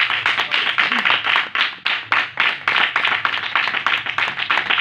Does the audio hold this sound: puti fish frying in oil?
no